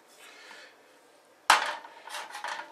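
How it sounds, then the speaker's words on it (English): A sealed jar of ginger beer bug shaken by hand, giving a sudden loud rattling burst after a quiet stretch, followed by a few more shorter sloshing shakes. "I'll give this one a little shake."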